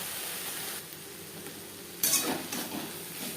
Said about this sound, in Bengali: বরকটির সাথে নারকেল গাছ ভালো করে মিক্স করে দেবো মিডিয়াম ফ্লেমে আরও তিন চার মিনিট রান্না করব